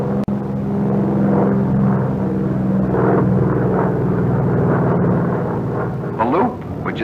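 A Grumman F6F Hellcat fighter's piston engine drones steadily through a slow-roll maneuver, a loud sustained rumble with a brief dropout near the start and a slight waver toward the end.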